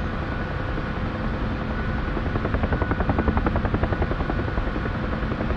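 Helicopter in the DCS World flight game, its rotor producing a loud, steady drone that builds into a distinct rapid blade chop partway through and stays close and dominant, with no talk over it.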